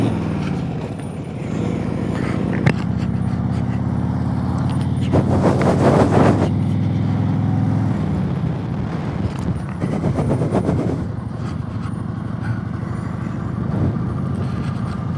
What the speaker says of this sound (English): Probably took about 8 or 10 primer kicks to get the bike going. But it fired up.